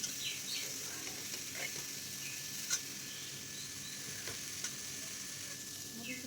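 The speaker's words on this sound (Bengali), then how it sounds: "এখন আলুগুলোকে ঢেলে দিলাম দিয়ে এটাকে লাড়াছাড়া করে নেব ভালো করে" Potatoes fry with whole cumin seeds in hot oil as they are turned in a pan. A quiet, even sizzle holds throughout, with occasional light scrapes and taps from stirring.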